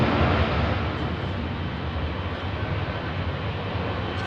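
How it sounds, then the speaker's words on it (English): A Boeing 777 airliner passes overhead at Heathrow Airport, a loud, broad jet roar with deep rumbling that stays steady and close throughout the short pass. "Flyby, little Flyby, great big massive 777"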